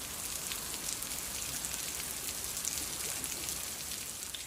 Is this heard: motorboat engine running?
no